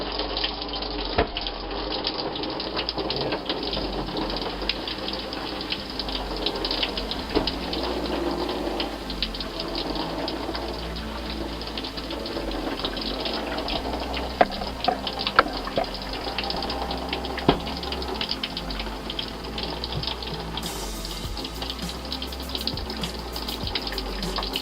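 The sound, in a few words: shower water running in NuWa travel trailer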